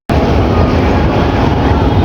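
A train on the Dhaka to Mymensingh line rushes past close by, a sudden loud, continuous roar of wheels and carriages that holds steady for about two seconds.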